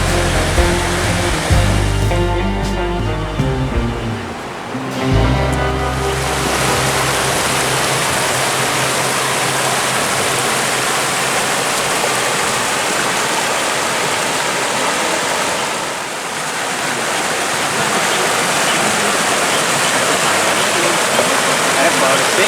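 Loud, steady roar of river water rushing near the Saptakund waterfall on a trek by the Ajanta Caves, a continuous broadband wash after a few seconds of voices and music at the start.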